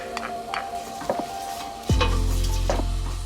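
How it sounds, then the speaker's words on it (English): Sliced onions softening and caramelizing in a pan for a creamy mushroom soup, with light stirring clinks and scrapes over a soft sizzle that swells into a louder, steady frying hiss partway through. "It's been about 5 minutes that the onions have been cooking."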